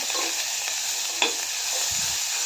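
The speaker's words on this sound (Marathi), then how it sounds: "हे सर्व चांगलं भाजून घेते" Whole spices such as cinnamon, star anise and bay leaf roast in hot oil for potato-pea pulao, with a steady close sizzle, one sharp pop and soft stirring scrapes near the end.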